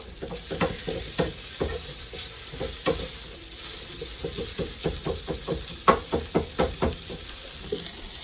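A wooden spoon stirs flour into fully melted butter in a hot pan, producing a steady sizzle broken by repeated rhythmic scraping strokes, close and clear.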